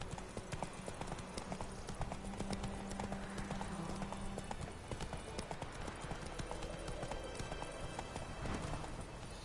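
A horse gallops in the video game The Witcher 3, its hoofbeats a quiet, steady clip-clop rhythm that continues throughout.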